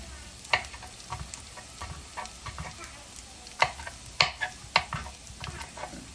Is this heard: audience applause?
no